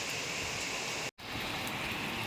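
Heavy summer evening rain pours down steadily, a dense close hiss of drops on a wet floor with water spilling down, broken only by a brief dropout midway.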